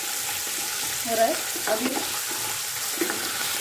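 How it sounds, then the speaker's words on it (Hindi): Ginger paste frying in oil in a pan, with a constant close sizzling hiss and a few soft stirring scrapes; a voice speaks briefly over it. "अदरक का पेस्ट फ्राई कर लिया"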